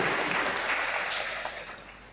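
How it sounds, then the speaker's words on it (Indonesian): A church congregation claps at a homily during a priestly anniversary Mass, a dense, brisk spatter of many hands that thins slightly toward the end. "Tepuk tangan untuk Tuhan"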